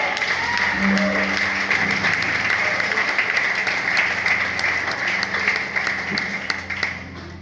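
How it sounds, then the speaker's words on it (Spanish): A church congregation claps together for the Lord during a sermon on Jesus' words on the cross, a steady wash of applause that holds for the whole span with faint voices mixed in. "Dele palmas al Señor."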